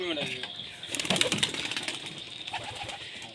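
Racing pigeons coo softly nearby, with a brief flutter of flapping wings, while someone talks over them.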